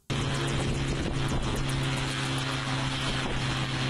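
A homemade helicopter's small engine runs loud and steady at close range, a rough, high buzzing drone like an overworked lawnmower that never lets up.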